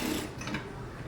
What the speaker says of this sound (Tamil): நான் ஒரே ப்ளவுஸ் அப்படியே தைச்சி காட்டுறேன்.